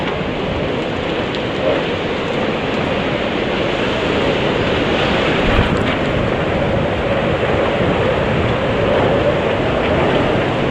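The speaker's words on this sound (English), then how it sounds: "it's really windy outside." Constant roaring wind from category 5 Hurricane Irma buffets the microphone in a dense, unbroken rush of noise, loud and unrelenting throughout.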